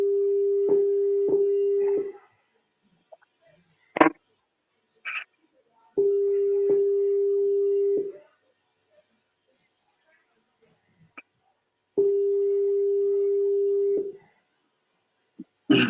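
Telephone line tone on an outgoing call-back, sounding in three steady two-second bursts separated by silences, with a few faint clicks and beeps between the bursts.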